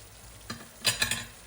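Spice paste for a wedding-style chicken roast fries in a pan, a soft sizzle broken by a few quick scraping stirs near the end of a brief moment.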